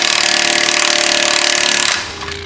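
Milwaukee Fuel half-inch impact wrench hammering on a car's wheel lug nuts, a loud, steady rapid rattle for about two seconds that then stops, leaving a quieter tail.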